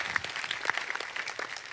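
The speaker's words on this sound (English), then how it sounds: "can we get a round of applause for the cameraman?" An audience at a fan convention Q&A panel applauds, a brief burst of many hands clapping at moderate loudness, steady throughout.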